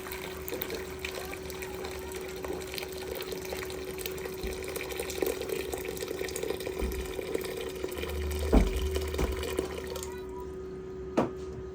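Water boiling in a casserole pot: a steady, continuous bubbling hiss with a low hum underneath and a couple of faint clinks toward the end.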